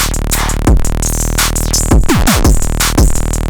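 Loud, dense electronic drum beat from a drum kit in a catchy production track, with punchy kicks, sliding bass drops and hi-hat texture driving a steady groove, no voice over it.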